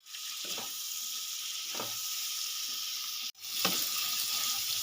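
Figs and prawns fry in a pan, a continuous close sizzle with a few soft stirring scrapes and a brief dropout near the end, no talking.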